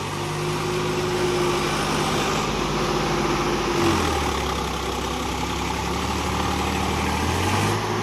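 A Mahindra 575 DI tractor stuck in mud runs with a steady, loud low diesel drone, and its pitch shifts and deepens partway through as the engine labours.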